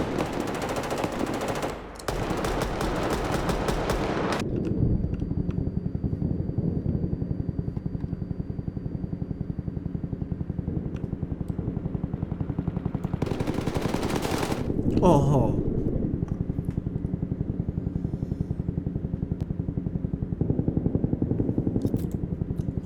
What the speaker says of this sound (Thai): เสียงปืนรัวขนาดนี้ไม่มีปืนไหนกระสุนเยอะขนาดนี้